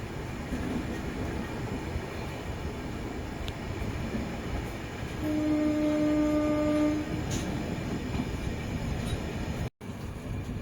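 The Puducherry Yesvantpur Express runs along the tracks with a steady, close rumble and rattling throughout, a sustained horn blast sounding partway through and a brief dropout near the end.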